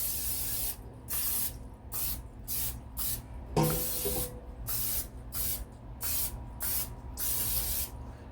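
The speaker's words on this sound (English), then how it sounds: "we got our air fryer out. We're going to spray our basket." Cooking oil sprayed onto an air fryer basket in a home kitchen, a series of about ten short hissing bursts with brief gaps between them, with one small clatter midway.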